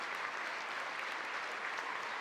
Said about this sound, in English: On both sides, the Red Knights clapping.